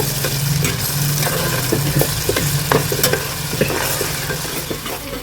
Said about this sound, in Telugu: కొంచెం గోల్డ్ కలర్ వచ్చే వరకు వేయించుకోవాలి ఉల్లిపాయ